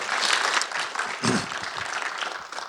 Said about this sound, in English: please, applause for this group.